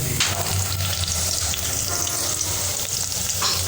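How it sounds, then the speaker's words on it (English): Onions frying in cooking oil inside a sufuria give a loud, continuous sizzle with a dense crackle throughout, heard close up and alone. "my onions inside my sufuria with oil, cooking oil"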